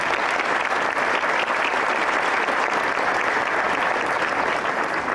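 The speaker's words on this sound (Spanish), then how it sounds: "Un aplauso al ingeniero, por favor." A crowd at a hospital opening for a human milk bank and CT scanner gives an engineer sustained applause, thick and steady from start to finish, close and loud with no talking.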